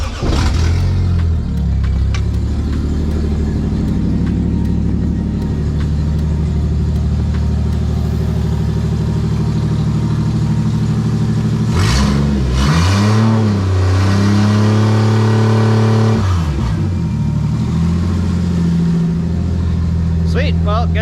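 A Nissan 240SX with a 1JZ engine runs loud and close, idling steadily and then revving up and down in several throttle blips midway before settling back to idle.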